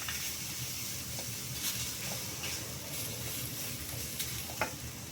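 Red chilli, coconut and tamarind fry in a pan for radish chutney, giving a soft, even sizzle with light spatula taps and scrapes scattered throughout, quiet and close.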